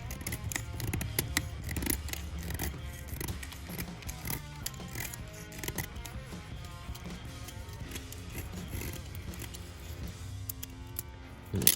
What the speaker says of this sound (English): And the excess, I just scrape away with the razor knife.